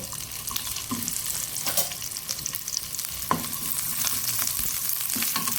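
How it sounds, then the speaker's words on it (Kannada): Onions frying in oil in a pan for a sardine chutney, a steady close sizzle with occasional stirring scrapes and clinks running the whole time, no talking. "ನೀರುಳ್ಳಿ ಸ್ವಲ್ಪ ಫ್ರೈ ಮಾಡ್ಕೊಳ್ಳೋಣ ತುರಿಗೆ"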